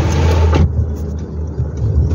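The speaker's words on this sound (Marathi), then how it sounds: "मला वाटतं काहीतरी गाडीमधून आवाज येत होता" Car engine heard from inside the cabin, a steady low rumble that stays present throughout, with a brighter broadband layer that drops away after about half a second.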